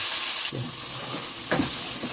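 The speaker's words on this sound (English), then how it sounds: "So while frying the onion, you can add a little bit of salt on it" Steady sizzling of onions frying in a hot pan, a constant crackling hiss with a couple of soft stirring scrapes, with a little salt added while frying.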